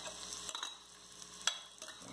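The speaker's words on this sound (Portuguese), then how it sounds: "Vamos dar uma murchadinha na nossa cebola aqui." Sliced onion sautéing in a pan, a soft steady sizzle with a few scraping stirs, faint and close, no talking.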